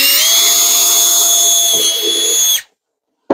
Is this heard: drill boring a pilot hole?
yes